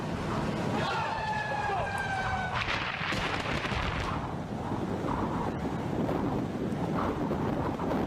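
Tornado winds roar in a loud, unbroken rush with heavy gusts buffeting the microphone, and a siren wails faintly at the start, with no talking.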